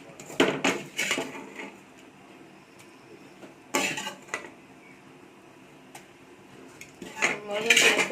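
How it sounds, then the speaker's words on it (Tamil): A spoon clanks against a metal curry pot as drumstick leaves are added to a boiling kara kuzhambu, several sharp scraping knocks in bursts separated by quieter pauses. "நம்ம எடுத்து வச்சுருக்க முருங்கைக்கீரையை சேர்த்துக்கலாம்"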